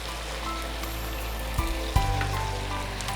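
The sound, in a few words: ingredients sautéing in a pan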